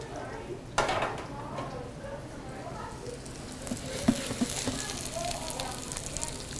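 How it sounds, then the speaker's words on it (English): Food sautéing in a very hot pan gives a steady close sizzle, with a sharp burst as it goes in and a few clinks of utensils against the pan, while a person speaks over it. "I'm going to saute them."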